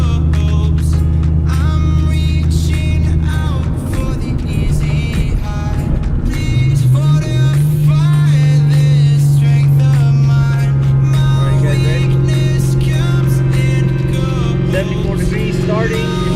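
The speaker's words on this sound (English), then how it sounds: "I want to show you guys what it looks like when I do a pull." A 2003-04 Ford Mustang Cobra engine drones loudly from inside the car and rises in pitch under hard acceleration, a steady sustained roar with a voice speaking over it.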